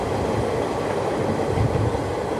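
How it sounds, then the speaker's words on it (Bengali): Kolkata–Haldibari Superfast Express passenger train running, a steady loud rumble of wheels and carriages with faint rhythmic clatter throughout and no voices. "Kolkata Haldibari superfast express."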